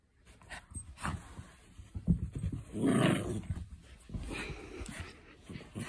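A dog growls and grumbles while tugging at a toy moose, the rough playful growls rising and falling in bursts at moderate volume, sometimes close and loud, under no speech.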